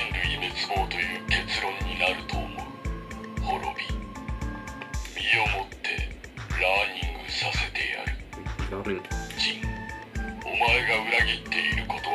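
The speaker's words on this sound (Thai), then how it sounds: "อันนี้เป็นเสียงอาร์คนะครับ" A DX Ark Driver transformation toy plays its Ark sound effects, a loud, busy stream of electronic voice lines, music stabs and rhythmic synthetic bursts coming from the toy's speaker up close.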